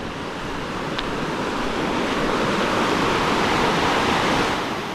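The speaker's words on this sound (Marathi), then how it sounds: "इकडे बघा पाण्याचा आवाज येतो आहे" Flowing water rushes continuously as a loud, broad, steady roar, like a stream or waterfall heard close by, with no voices.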